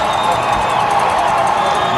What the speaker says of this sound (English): What an incredible crowd from Pulaski County.